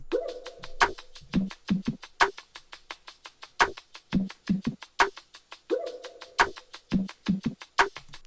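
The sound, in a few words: rim hits percussion in music track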